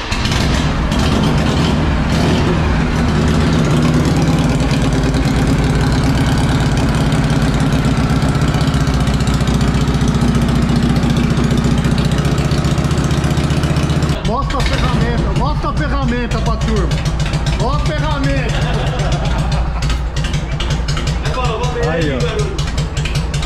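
A Royal Enfield motorcycle engine idles steadily and loudly nearby, a constant low rumble, while people talk over it.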